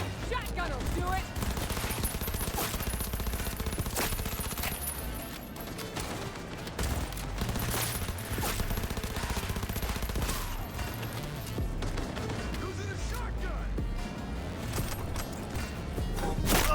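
Repeated shotgun blasts in Cyberpunk 2077 (Phantom Liberty) ring out in a dense, continuous barrage over roughly seventeen seconds, loud and close, with game effects and possible voices mixed underneath.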